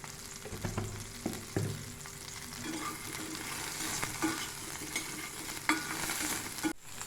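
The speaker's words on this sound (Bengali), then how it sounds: "পটলটা ভাজা হয়ে গেছে।" Salted pointed gourd (potol) pieces fry in a pan while being stirred, a soft, continuous sizzle broken by scraping stirs and light clatters of the utensil, heard quietly and without speech.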